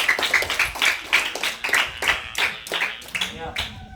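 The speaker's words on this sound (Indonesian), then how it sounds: "Berikan aplaus." A group of students clapping in applause during a site visit, with about a dozen brisk, evenly spaced claps, close and fairly sharp, with a voice faintly underneath.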